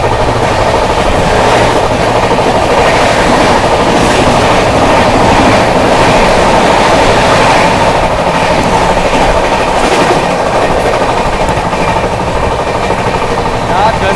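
The 22412 Arunachal AC Superfast Express rushing through Firozabad railway station at speed, a loud, continuous roar with rapid clickety-clack of wheels over rail joints, heard from on board.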